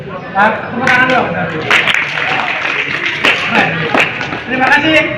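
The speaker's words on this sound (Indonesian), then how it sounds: "Tepuk tangan dong." Schoolchildren at a Gambang Kromong music workshop clap together in a short burst of applause, the claps loud and close, heard mixed with overlapping talk and chatter from the group.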